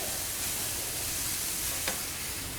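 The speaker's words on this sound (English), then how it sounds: "I'm going to deglaze that and add that to it" A pan being deglazed with juice while cooking Moroccan chicken gives a loud, continuous close hiss and sizzle, broad and steady, with a brief clink midway.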